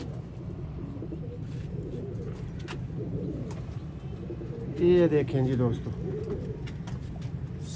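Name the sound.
Sialkoti fancy pigeons cooing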